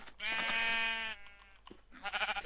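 Sheep bleating in the video game Minecraft Skyblock: one long, loud, wavering bleat, followed by a shorter, fainter bleat trailing off near the end.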